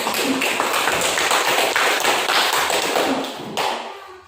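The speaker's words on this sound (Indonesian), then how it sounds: "Ya, kita kasih tepuk tangan untuk kita semua ya." A group of students clapping together in a classroom, a dense, loud burst of hands that holds steady for several seconds and then trails off near the end.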